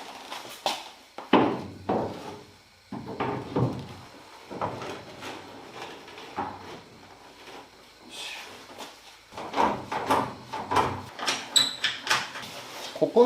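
A Mazda RX-7 FD3S door is test-fitted during restoration bodywork, giving a series of close wooden-sounding knocks, clunks and shuffles at irregular intervals, with a person talking between them.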